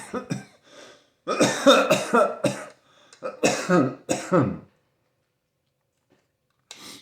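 Several bursts of harsh, close coughing in uneven clusters, separated by brief silences, with a final short cough at the end.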